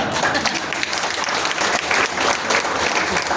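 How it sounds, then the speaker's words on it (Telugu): A crowd at a devotional discourse claps loudly and steadily, a dense, continuous burst of applause close by with no pauses. "ఎందుకు చప్పట్లు కొట్టమంటున్నా అంటే మన కోసం కాదు, పక్కన ఎవరైనా పడుకుంటే లేస్తారని గట్టిగా"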